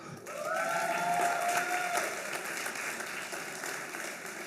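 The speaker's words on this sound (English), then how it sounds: "Y'all can go ahead and clap some more." Audience clapping at a TEDx talk session, a sustained mid-level patter of many hands with a whistle or whoop early on, gradually easing off.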